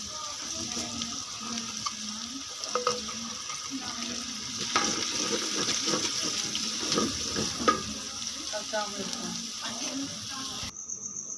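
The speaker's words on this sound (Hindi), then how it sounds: "पहले हम ज़ीरा थोड़ा सा डाल देते हैं।" Cumin seeds hit hot oil with browned onions for a Pakistani cabbage dish, giving a steady, close crackling sizzle that runs throughout.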